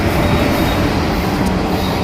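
A train rolls past in Trivandrum, heading from north to south, as a loud, close, continuous rumble and roar with steady rolling noise throughout.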